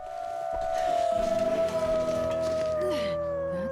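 A wolf in the snowy survival game The Long Dark lets out one long, sustained howl that slowly sinks in pitch, over faint rumbling ambience and without speech.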